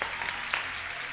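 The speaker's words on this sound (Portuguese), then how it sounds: "Merecem todos os aplausos." Studio audience applauding guests on a Brazilian daytime TV talk show, a steady burst of clapping lasting about a second with a slightly louder spike midway.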